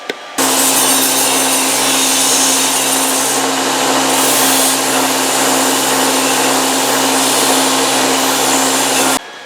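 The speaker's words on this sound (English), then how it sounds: "I'm going to go ahead and clean it up on the belt sander and then cut off the right amount" A belt sander grinds rusty bandsaw blade steel for feather pattern Damascus, a loud continuous abrasive roar with a steady motor hum running for about nine seconds and then cutting off.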